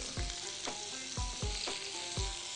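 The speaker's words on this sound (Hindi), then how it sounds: "अब इनको थोड़ा सा फ्राई करने से ये पनीर नरम हो जाएगी और ये सॉसेज का फ्लेवर जज्ब कर लेगी।" Paneer cubes fry with sausages in a pan, a steady close sizzle broken by regular scraping stirs about every half second, with no voices.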